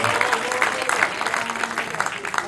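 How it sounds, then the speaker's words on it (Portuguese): A church congregation claps together during a service, a moderately loud, fairly rhythmic wave of applause with faint voices mixed in among the hands. "Aplauda o Senhor bem forte."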